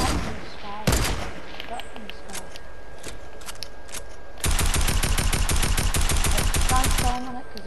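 Rapid bursts of gunfire from a shooting video game, a sparse volley early on and then a dense, sustained run of fast shots near the end, with a player talking at times over it.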